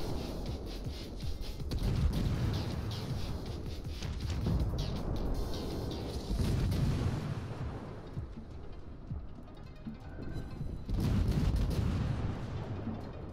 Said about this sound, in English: Ooh, I'm getting shot at.